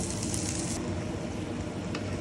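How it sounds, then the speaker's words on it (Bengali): Vegetables tipped into a pan of well-browned frying sausages give a loud, steady sizzle, brightest in the opening moment and then settling into a continuous crackling hiss with a faint clink near the end. "আমার সসেজগুলো একদম ভাজা ভাজা হয়ে গিয়েছে এর মধ্যে আমি হচ্ছে এই যে সবজিগুলো দিয়ে দিব"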